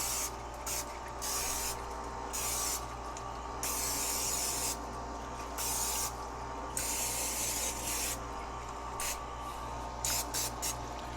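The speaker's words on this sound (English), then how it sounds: "I like to spray them really good so I can get a nice browning on them" Steady hissing spray bursts repeat in short pulses over a constant low hum as cooking oil is sprayed onto scones.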